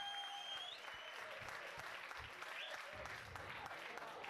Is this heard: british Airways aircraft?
no